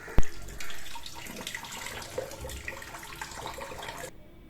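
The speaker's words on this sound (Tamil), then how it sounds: "கீரை வந்து பறிச்சுட்டு வந்துட்டு சுத்தமாக கழுவி எடுத்துடலாம்" Spring onion greens washed under a running tap, a steady broadband splash of water in a sink after a brief sharp knock at the start, continuous and fairly close until the flow stops abruptly near the end.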